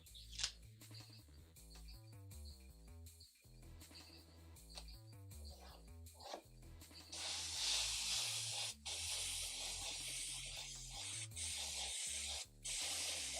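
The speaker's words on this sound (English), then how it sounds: "Oh yeah, the airbrush is working good now." An airbrush sprays paint onto a T-shirt with a steady, loud hiss that starts partway through and keeps going, after a stretch of busier background sound before it.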